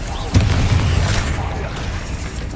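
A Bombarda spell detonates in the video game Hogwarts Legacy, a sharp loud boom followed by a rumbling tail and continued combat noise, with a voice talking over it.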